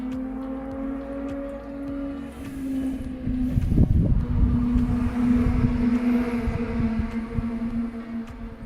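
A Suzuki GSX-R 600 motorcycle tears past at speed, a brief loud rush peaking midway over a steady engine hum from a nearby idling car.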